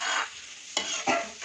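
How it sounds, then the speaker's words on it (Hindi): Dal tempering (tadka) sizzles in a hot pan, a bright steady hiss of frying oil broken by two sharp stirring scrapes. "इधर दाल को मैंने तड़का लगा लिया है"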